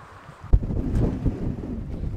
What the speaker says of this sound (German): Sehr, sehr windig hier.